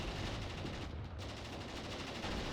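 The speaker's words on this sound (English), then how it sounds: "Look at all this firing." Dense, continuous gunfire in the World War II strategy game Mius Front: rapid machine-gun bursts and overlapping rifle shots packed into a loud, unbroken roar of battle, with no speech.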